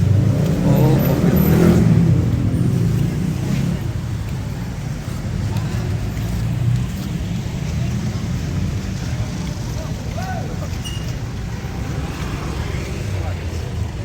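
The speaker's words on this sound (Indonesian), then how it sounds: "Oh, mobil." A car rolls past near the Keraton Surakarta palace grounds, its low rumble loudest at the start and then fading into steady outdoor noise while people talk.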